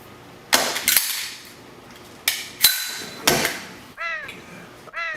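Several sharp shotgun blasts fired in quick succession, close and loud, with metallic clacks of the action between shots and a brief high squeal near the end.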